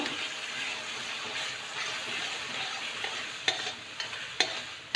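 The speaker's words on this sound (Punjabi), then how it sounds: "ਲਾਲ ਹੋਣ ਤੱਕ ਭੁੰਨਣਾ" Turnip roasts and is stirred in a pan for halva-style pinni made with besan, giving a steady, close sizzle with scraping stirs and a few sharp clinks near the end.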